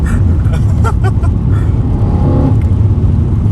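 A loud BMW E92 M3 engine and exhaust roar close by from inside or beside the car, a steady heavy drone with a few brief rising revs.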